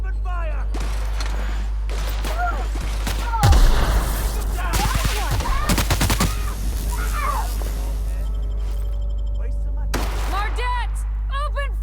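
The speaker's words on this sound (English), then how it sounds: "Push on, Mardat! Open fire!" Gunfire and explosive bursts in a firefight from the video game The Outer Worlds, mixed with shouted voices and game sounds, with a heavy thump early on and scattered shots throughout.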